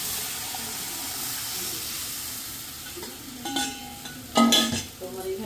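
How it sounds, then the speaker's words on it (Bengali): Water is poured into a pot of corn soup seasoned with turmeric, green chili and garlic, giving a soft continuous splash and sizzle, with a few louder clinks and bursts of pouring near the end. "তো এই যে দেখেন আমি এই পরিমাণে জল দিয়ে দিলাম।"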